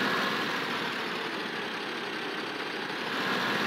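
A tractor engine idles in Farming Simulator 15, a steady, even drone that holds at a constant level throughout, with no voices.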